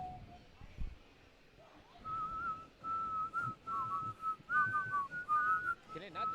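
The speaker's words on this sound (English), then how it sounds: "Can it not detect the whistle?" A thin, steady whistle tone sounds at a Tetris tournament venue, wavering and repeating in held segments while people talk and move nearby.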